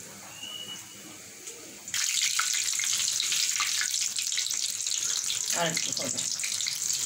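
Chicken potato chops fry in hot oil until golden brown. A quiet stretch gives way to a sudden loud, bright, crackling sizzle that continues steadily, with a voice speaking briefly and softly.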